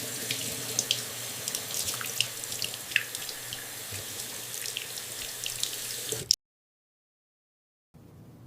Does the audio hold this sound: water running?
yes